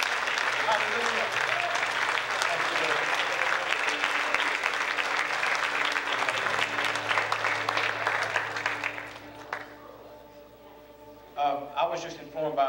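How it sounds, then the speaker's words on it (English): A church congregation claps hands in praise during a morning service, sustained loud applause from a crowd that fades after about nine seconds, followed by a voice talking alone. "give Jesus a hand clap of praise this morning"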